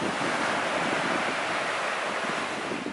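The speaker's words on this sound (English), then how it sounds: "It's nice to be beside the sea." Sea waves washing onto the shore at Magnetic Island, a continuous loud surf roar mixed with heavy wind buffeting the microphone.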